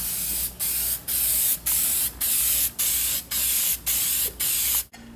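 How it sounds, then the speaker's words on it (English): High gloss clear coat sprayed from an aerosol can over PlastiDip on a car, nine short hissing bursts in a steady rhythm with brief pauses between, close and fairly loud. "I'm going to throw another coat of the clear coat over the PlastiDip now."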